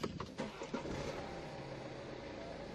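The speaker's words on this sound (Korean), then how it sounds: "이제 이 차량 시동부터 한번 걸어볼 건데요" A German sedan with M Performance styling being started, a few quick cranking bursts catching into a steady idle hum, close and moderately loud, with no talk.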